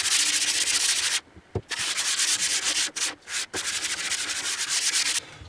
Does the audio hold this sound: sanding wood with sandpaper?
yes